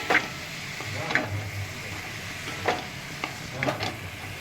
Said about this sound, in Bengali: টমেটোটা দিয়ে দিলাম এবার আমি একটু আবার একটু ভালো করে নেড়ে নেব